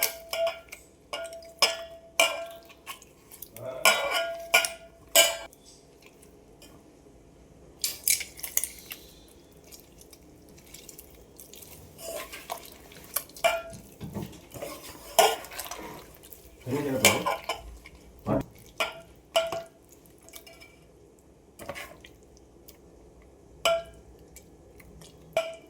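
Three tomatoes squeezed and mashed by hand in a bowl for village-style fish curry: intermittent wet squelches and clinks of the bowl, close by, separated by quiet gaps.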